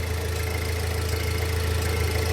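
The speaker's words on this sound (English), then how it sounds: "The engine sounds good." A Saturn Sky engine idles steadily after coolant work around the thermostat housing, a close, even, loud drone with no variation.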